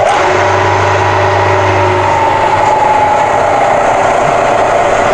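A milling machine spindle runs in high range at about 1700 RPM, giving a steady, loud, even mechanical hum with a faint low drone underneath and no change in speed.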